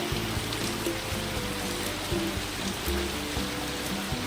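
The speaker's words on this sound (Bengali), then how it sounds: "বৃষ্টিটা কত পরিমাণে হচ্ছে" Heavy monsoon rain pouring down steadily outside a home, a dense continuous hiss of falling water with scattered drips on surfaces, even and unbroken, with no talking.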